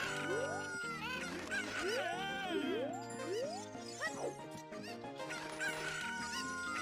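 Chickens cluck and squawk with rising calls in Ocarina of Time randomizer, several bird cries in quick succession over a bright chiming game backdrop, no talking.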